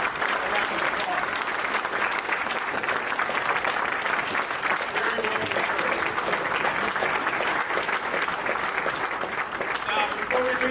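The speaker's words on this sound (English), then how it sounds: "So please give a round of applause." A large audience at a men's health night event claps loudly and continuously, dense and even applause that holds for over ten seconds with a few voices faintly mixed in.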